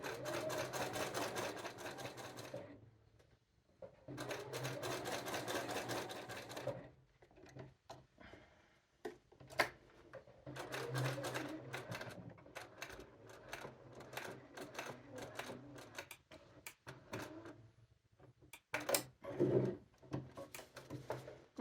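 A sewing machine runs understitching along a jeans front pocket in several short bursts of rapid, mechanical needle chatter, separated by quiet pauses, with soft handling clicks near the end.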